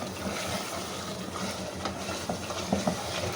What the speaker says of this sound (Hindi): अब दही का पानी ड्राई होने तक हम इसे भूनेंगे।